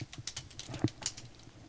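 Rapid typing on a computer keyboard, a quick irregular run of close, faint key clicks and taps with no voices.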